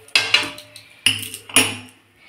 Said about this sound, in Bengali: এই যে সাঁড়াশি দিয়ে এইবারটা নামিয়ে নিচ্ছি